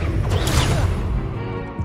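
A Confringo explosion spell fires in Hogwarts Legacy, giving a dense, crashing blast with a burst at about half a second and a sustained rumble that never drops away, heard on its own.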